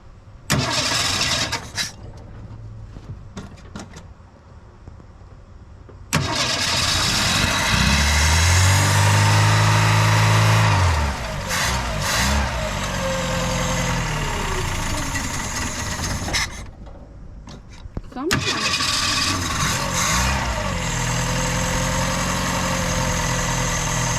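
A Fox Body Mustang left sitting outdoors for 31 years cranks and fires, then runs loudly for several seconds, cuts out briefly, and starts again into a rough, close idle, with no talking.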